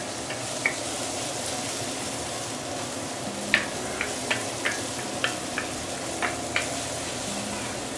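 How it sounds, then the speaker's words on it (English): Shallots sauté in a pan for a Nyonya ayam pongteh, making a steady, even sizzle with a few light ticks and clicks scattered through it. "let's saute this for a minute or two before I continue"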